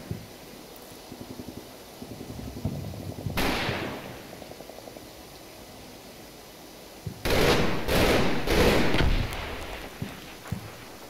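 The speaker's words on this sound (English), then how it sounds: "You can see an MG, what looks like an MG-42 there, starting to fire upon the platoon that's behind the hedgerow by the road." An MG-42 machine gun fires in a Combat Mission World War II battle set in France in 1944, heard as short bursts and a couple of heavier volleys over a low battlefield rumble, with scattered single shots.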